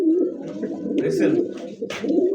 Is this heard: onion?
no